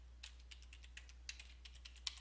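A password being typed on a computer keyboard, with a quick, uneven series of soft, close key clicks in a quiet room.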